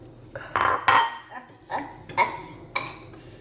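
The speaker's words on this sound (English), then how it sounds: "I'm gonna put some in the bowl and let you guys have a look." Miso soup ladled into a bowl in a home kitchen, a few bursts of clinking dishes and utensil scrapes spaced apart, fairly close and moderately loud.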